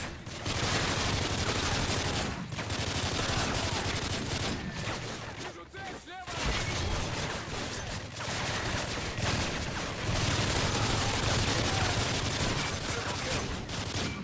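Sustained automatic gunfire from a deployed sentry gun in a video game, a dense, loud stream of rapid shots running nearly continuously with brief gaps, with explosion-like bursts mixed in.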